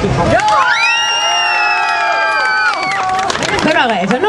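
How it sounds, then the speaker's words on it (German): Parents at a children's concert clap and scream together, a loud sustained crowd of shrieks and whoops with applause underneath, swelling for several seconds before breaking into scattered cheers. "Also jetzt nur die Eltern klatschen und schreien."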